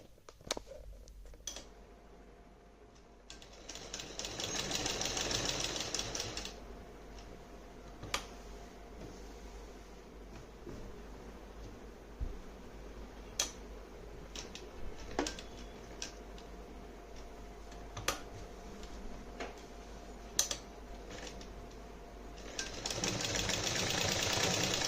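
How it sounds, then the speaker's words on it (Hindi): Hand-fed cloth rattling through a home sewing machine as someone stitches a strip to reinforce a seam, a steady mechanical clatter in fast bursts with pauses between, fairly close in a quiet room. "सिल लेती हूँ फटाफट"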